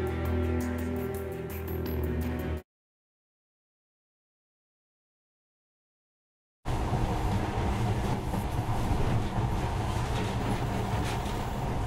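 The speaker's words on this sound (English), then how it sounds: "But now, this monorail seems magic, doesn't it?" A monorail train in Metro Last Light running along its track, a rumbling, clattering rail drone that cuts to full silence for several seconds and then returns with a louder, rougher roll.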